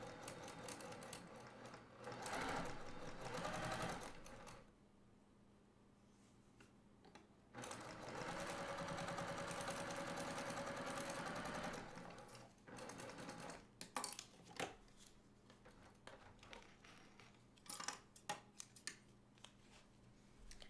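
A sewing machine stitches a quilted table runner in several runs, with loud bursts of steady whirring broken by pauses and small clicks, and no talking.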